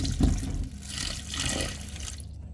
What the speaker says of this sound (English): I'm going to use some water and wash up them here really good.